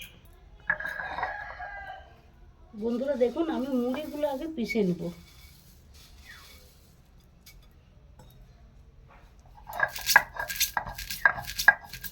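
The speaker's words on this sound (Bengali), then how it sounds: "চলুন আমি এখন চিংড়ি মাছটা বেটে নিই আগে শুকনো শিলেতে আমি মুড়িটা বেটে নেব" Puffed rice and prawns are ground on a stone grinding slab, heard near the end as a quick run of rhythmic, gritty scraping strokes. Earlier, a rooster crows and another short sound comes before it, with long quiet stretches between them.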